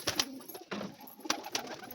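Pigeons in their coop setup give soft, low coos close by, broken by a few sharp flutters and knocks. No one speaks.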